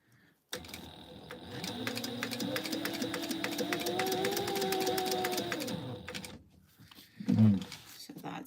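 A home sewing machine runs a steady basting stitch across tote bag pieces, a rapid even clatter for about five seconds that speeds slightly mid-run, followed by quieter handling and a brief voice.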